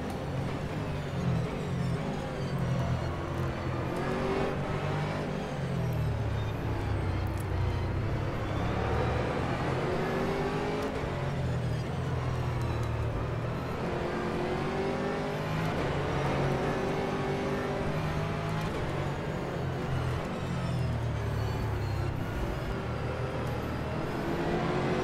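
A GT3 race car engine drones continuously in the rFactor 2 racing game on the Mid-Ohio circuit, revving up and down through the gears without any pause.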